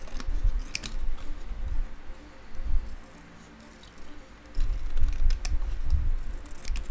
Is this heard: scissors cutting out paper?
yes